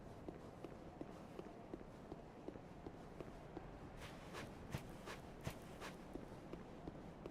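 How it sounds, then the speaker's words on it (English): Footsteps in Dark Souls 3, a faint steady run of soft regular steps over low background noise, with a few sharper louder steps later on. "Footsteps sound right."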